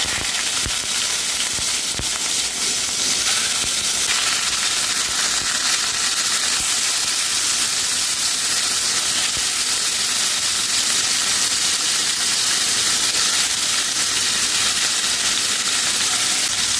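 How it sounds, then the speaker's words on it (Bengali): Hilsa fish pieces fry in hot oil, a loud, dense, unbroken hiss and sizzle running evenly from start to finish, close and alone with no voices. "এখন আমি মাছগুলো ভেজে নেব।"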